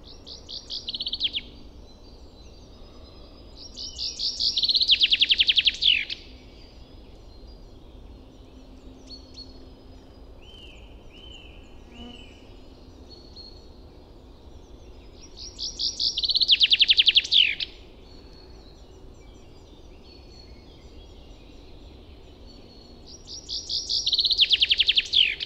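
Birdsong picked up by a Dodotronic Hi Sound Stereo parabolic microphone outdoors in spring: three loud bursts of high, rapid chirping trills at regular intervals, with quieter calls and a faint low background hum in between.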